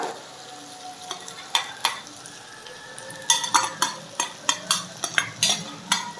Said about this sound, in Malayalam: ഇനി സവാള ചേർത്തിട്ട് നന്നായിട്ടൊന്ന് വഴറ്റിയെടുക്കാം